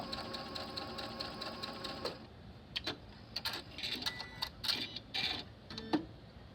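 Sewing machine stitching seams on a baseball-themed quilt block for a block-of-the-month project, a steady close mechanical whir for about two seconds that stops, followed by scattered clicks and fabric handling.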